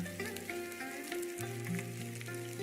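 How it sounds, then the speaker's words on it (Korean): Large pieces of tofu pan-fry in a thin layer of perilla oil with salt, giving a soft, steady sizzle over faint background tones, with no talk. "팬에 들기름을 자작하게 넣고 크게 썰어 놓은 두부를 넣고 소금을 뿌리고 익혀줍니다."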